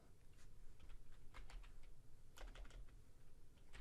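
A username is typed on a computer keyboard: quiet, uneven bursts of key clicks against a faint room hum.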